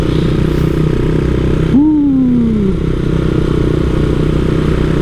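A bored-out 181 cc Honda Monkey motorcycle rides steadily over a slightly rough, uphill road, its engine droning continuously with a rising and falling whine partway through, close and fairly loud.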